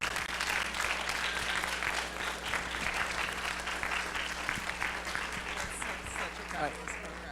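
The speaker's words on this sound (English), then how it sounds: "let's give them a round of applause" An audience at a fundraising panel event applauds the panelists, a steady wash of clapping that holds at an even level for the whole stretch with no voices rising above it.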